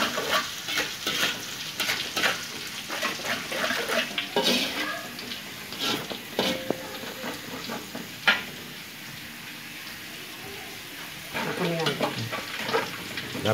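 Onions frying in a pan for stir-fried kangkung sambal, a steady close sizzle with occasional stirring scrapes and clatters, and a voice speaking softly underneath.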